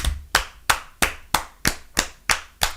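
Nine sharp, evenly spaced hand claps ring out close by in a steady rhythm, each one crisp and distinct, with no voices in between.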